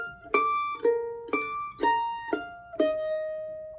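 A mandolin picks the opening phrase of a song as six clear plucked notes in an even, moderate rhythm, each ringing and decaying before the next, played alone and close.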